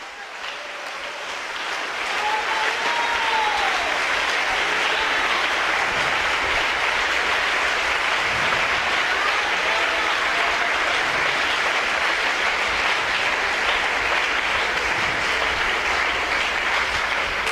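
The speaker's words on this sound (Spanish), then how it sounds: "Dale un aplauso al Señor en esta hora" Church congregation applauding together, a steady broadband clapping wash that swells in over the first two seconds and then holds loud and dense to the end.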